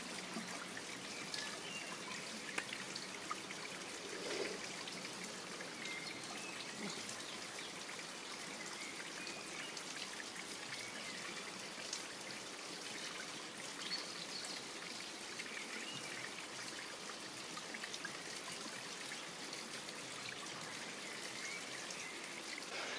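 Water trickling and flowing outdoors at a bushcraft log camp, a steady broadband babbling stream sound that continues evenly throughout with no voices.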